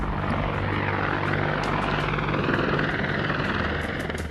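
Indian Air Force military helicopter in flight, its loud rotor and turbine drone steady and close throughout with no voices.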